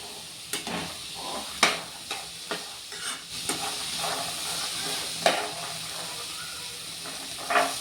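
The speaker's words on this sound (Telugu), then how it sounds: "ఇవి కూడా ఇంకొక 5 మినిట్స్ ఆయిల్లో మంచిగా ఫ్రై అవుతాయి." Chickpeas frying in oil for a Telugu-style seasoning, a steady hiss of sizzling with occasional scrapes and taps of a stirring spoon against the pan, close and continuous with no talking.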